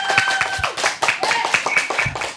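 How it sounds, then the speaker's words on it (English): A studio audience at the Couch TV program in Perth claps in quick, uneven bursts for a few seconds, with some vocal whoops or tones mixed into the hand claps. "Let's give him a round of applause"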